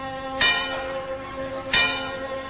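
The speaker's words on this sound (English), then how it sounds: "sat an old rusty bell" An old rusty bell strikes twice, each clang ringing out loud and clear with a long metallic hum that slowly fades, heard alone with no voices.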